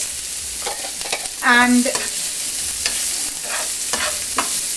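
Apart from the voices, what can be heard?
mixing chimichurri dressing with garlic, basil, pepper flakes, rosemary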